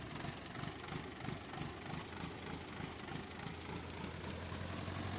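A tractor in the farming game Farming Simulator 22 idles steadily with a continuous low engine rumble that stays even throughout and has no talking over it.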